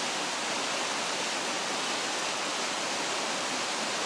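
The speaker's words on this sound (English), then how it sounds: "There's a beautiful little falls here." A small stepped waterfall on a creek, a tributary of Tyler's Forks, rushes in a steady, dense broadband roar. The sound stays close and constant throughout, with no voices.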